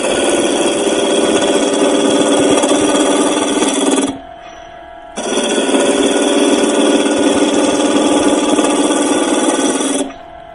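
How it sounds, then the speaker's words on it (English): A wood lathe spins as a turning tool cuts wood, giving a loud, steady broadband rush that stops briefly at about four seconds and then resumes for the rest of the clip. "I can tell by the sound of the lathe and the sound of the way that it's cutting whether I can speed it up a little bit."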